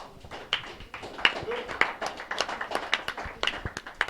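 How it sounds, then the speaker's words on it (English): A crowd applauds with steady, scattered clapping that builds slightly, heard from within the room with murmured voices underneath. "A round of applause, please."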